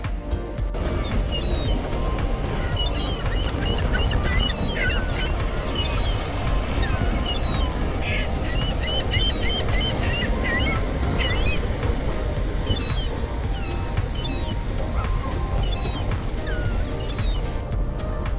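Gulls calling repeatedly at a seaside front by a pier in Southwold, Suffolk, their high cries scattered over steady wind and surf noise, moderately distant.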